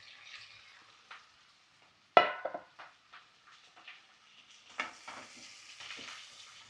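Garlic, green chilli and curry leaves frying in a pan for a Kerala prawn pickle, with a sharp burst of sizzle as the leaves hit the hot oil, then scattered crackles and stirring scrapes that fade and return.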